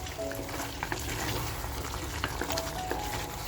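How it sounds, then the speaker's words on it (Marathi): Methi mutton frying with masala in a pan, a dense, steady low sizzle with faint bubbling and occasional soft ticks of stirring, moderately close. "आपल्याला मसाल्याबरोबर छान असं ह्याला फ्राय करून घ्यायचंय"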